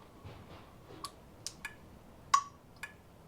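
Turn signal relay on a motorcycle ticking in a garage with the bike not running, a handful of sharp, evenly spaced clicks over quiet room noise.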